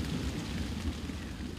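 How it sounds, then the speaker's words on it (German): A thunderstorm building over a climate-friendly garden in Landau, heard as a steady low rumble and wash of rain-like noise, moderately loud and continuous with no voices. "Ein Gewitter zieht auf."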